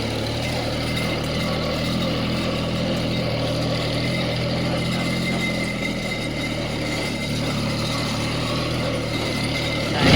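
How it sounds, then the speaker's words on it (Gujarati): Tractor engine running steadily on a farm road beside sugarcane fields, a loud continuous low diesel rumble with no pauses, close by, and a brief rise at the very end. "ટ્રેક્ટર લઈને ખેતરવાળા રસ્તા પર છે."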